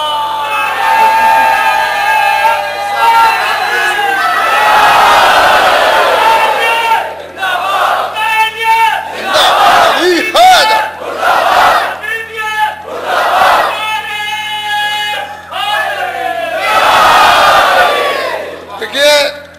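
A large crowd at a Shia majlis gathering loudly chants the Nara-e-Haidari slogan in repeated roaring bursts, voices swelling together in rhythmic call-and-response waves.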